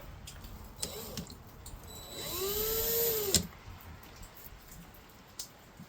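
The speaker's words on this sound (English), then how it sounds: "as I spin this in the drill" An electric motor's rotor spins in a drill, rising whine, steady high-pitched hum for about a second, then stops, amid faint rattles and taps.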